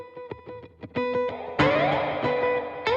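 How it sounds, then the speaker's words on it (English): Boss RC-505 looper track drenched in heavy reverb and effects, plucked synthy tones building into washes of distorted, smeared sustain with rising gliding pitches, loud and layered. "Lots of weird reverb stuff."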